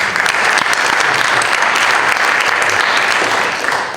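A school board meeting audience breaks into sustained applause, a dense, even wash of clapping filling the room for about four seconds without a break.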